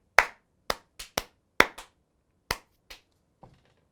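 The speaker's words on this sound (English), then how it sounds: "I think a round of applause." A few slow, sparse hand claps ring out one by one, roughly nine sharp and close claps in a loose uneven rhythm that fade off at the end, without a crowd.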